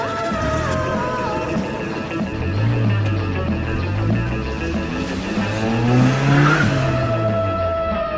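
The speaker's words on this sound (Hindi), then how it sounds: "वो गाड़ी बहुत तेज चला रहा था।" A car speeds away fast with engine revs rising and falling through gear shifts and tires squealing, loud and continuous over several seconds with no talking.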